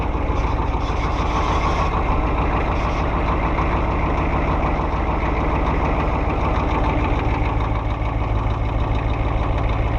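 A truck engine idles steadily after a cold start, a loud, continuous low rumble with a slight knocking rhythm that runs unbroken and alone throughout.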